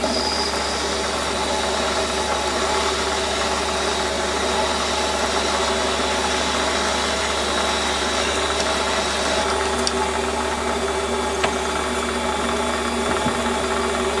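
A drill bit steadily cuts a deep hole in aluminium for a fire piston, the motor droning and humming loudly and continuously with slight vibration and occasional small clicks.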